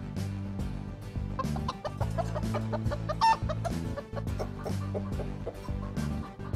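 Continuous clucking from a group of chickens, scattered bursts overlapping steadily with a low rumbling background throughout.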